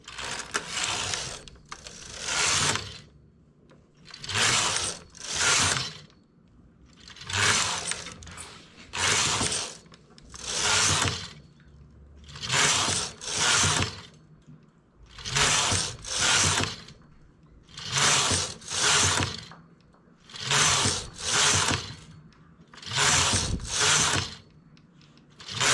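A knitting machine carriage slides back and forth across the needle bed while knitting geometric triangles, giving repeated bursts of rattling, clattering mechanical noise separated by short pauses, close and loud with no voices.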